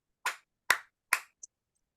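Three sharp hand claps in an evenly spaced rhythm, close and crisp in a quiet room, followed by a faint small tap, no talk.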